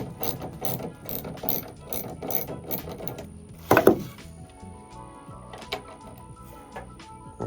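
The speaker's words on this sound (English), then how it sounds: "to remove just 2 bolts, 1 and 2." A ratchet with an 8mm socket loosens the taillight bolts on a Ford truck being fitted with LED Tremor-style lights. Quick runs of close, crisp clicking come in bursts, with a louder metallic clatter midway and a few scattered clicks after.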